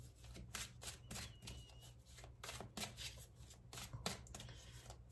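A deck of cards is shuffled for a Christmas tarot reading, giving a quiet run of riffling, flicking bursts in uneven rhythm, close and soft, with no voice.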